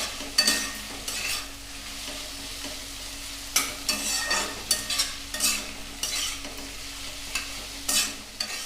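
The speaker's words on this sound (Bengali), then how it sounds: "এবার দিয়ে দিব 6টা শুকনো লঙ্কা।" Six dry red chillies frying in hot oil in a pan for an egg curry, giving a steady sizzle broken by sharp scraping and clattering stirs. Nobody speaks.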